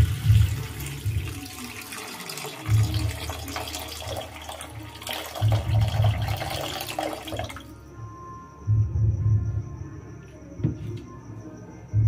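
Water poured into a pan of besan pakoda curry, a close running splash with low gurgling pulses that stops partway through and leaves a quieter background.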